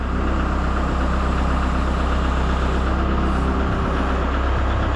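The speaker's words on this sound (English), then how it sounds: "I have it picked up a little bit with the backhoe" A Kubota M62 backhoe's engine runs with a loud, steady, unbroken rumble close by, and no voices are heard.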